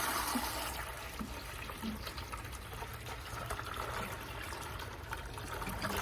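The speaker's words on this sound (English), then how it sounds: "next stage now is to fill the bucket with water" Tap water runs from a faucet into a bucket, a steady hissing, splashing fill that continues throughout at moderate level, with no talking.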